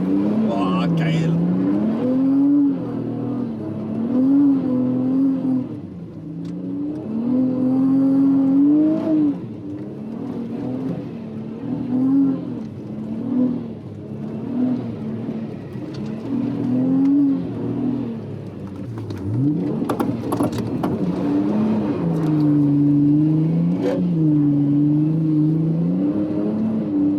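An Audi RS4 B5 launches and accelerates hard on snow, its engine rising and falling through repeated revving pulls, close and loud, with people talking over it.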